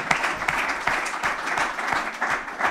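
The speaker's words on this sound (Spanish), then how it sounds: "nos vamos a dar un autoaplauso" Moderate applause from an audience at a summer course session in El Escorial, fairly close, with a few sharper individual claps standing out in a steady patter.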